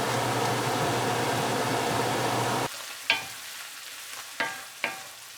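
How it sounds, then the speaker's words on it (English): Meat browning in a pan for pumpkin chili, a steady broadband sizzle that cuts off abruptly midway, followed by a few sharp clinks of a utensil against the pan in near quiet. "our meat is browned"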